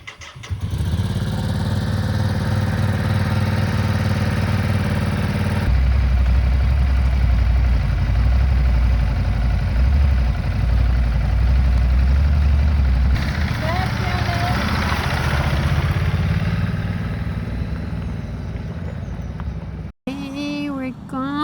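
Ducati Desert X adventure motorcycle engine running steadily and loudly while riding through a small village, a continuous close engine drone with shifts in pitch and a brief cut near the end; a voice talks over it.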